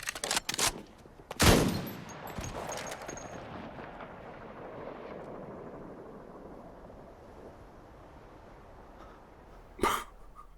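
Gunfire in a tense scene from the TV series Fargo, season three finale: a sharp burst of shots early on, then a long reverberant decay, with one more loud blast near the end.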